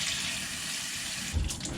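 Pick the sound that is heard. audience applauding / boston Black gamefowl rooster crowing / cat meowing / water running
water running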